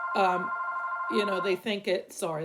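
A telephone rings with a steady electronic tone through the first second, partly beneath conversation, then people keep talking over it.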